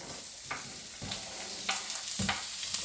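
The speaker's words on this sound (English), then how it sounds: "You can hear it sizzle, and I do not want it to get brown." Coarsely chopped yellow onions sizzle steadily in a hot pan, with a few scraping stirs cutting through the constant crackle.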